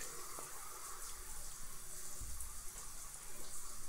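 Water splashing and sloshing in The Sims 4 as Sims belly flop into a pool, a steady watery wash with a few soft splashy bursts, no talking.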